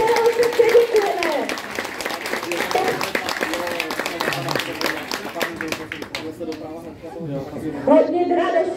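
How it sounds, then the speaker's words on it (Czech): Audience applause at a TJ Sokol Slavkov sports day for preschoolers, many hands clapping steadily with chatter and voices over it, easing off near the end. "Poprosím, aby vstala naše Pavla Petrželová, otočila se k publiku a my všichni zatleskáme"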